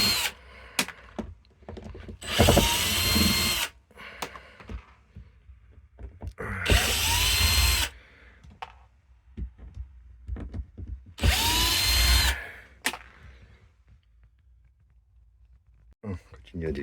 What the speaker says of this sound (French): Prendre la visseuse.